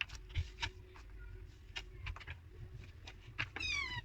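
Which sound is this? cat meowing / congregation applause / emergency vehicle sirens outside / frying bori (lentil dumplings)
cat meowing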